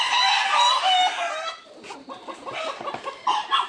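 Chickens at a poultry farm holding about 600 birds cluck and squawk nearby in a dense flock, with a loud burst of overlapping calls followed by scattered, irregular clucks.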